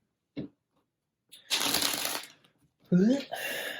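Tarot cards being shuffled by hand, a short tap and then two rustling, riffling bursts that stand alone and fairly close.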